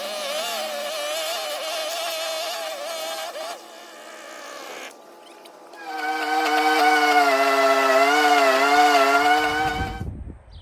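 A high-horsepower string trimmer fitted with an added back-saver grip handle runs steadily, its buzzing whine holding level, briefly dipping, then rising again louder and sustained before cutting off near the end.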